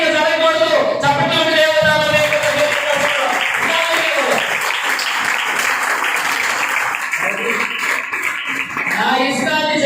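An audience bursts into sustained applause, dense clapping filling the hall throughout, dipping slightly toward the end before swelling again.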